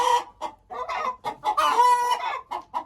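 Several hens cluck and squawk inside a henhouse fitted with hopper feeders near the nesting boxes, a busy run of close, overlapping calls with one longer drawn-out cry in the middle.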